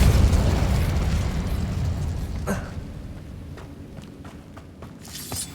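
Incendio fire spell and Compulso spell cast in the Hogwarts Legacy video game, a loud burst of roaring flame that fades into crackling, followed by sharp pops and a second blast near the end.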